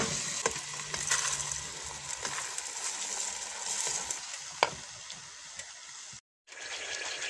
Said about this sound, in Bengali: চিকেনটা আমি তেলে একটু ভেজে নিব